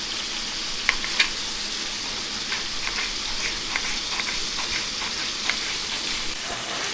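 Onion sizzles steadily in a pan with salt added, then a tomato goes in, a continuous frying hiss broken by a few faint clicks of stirring, close and alone with no talking.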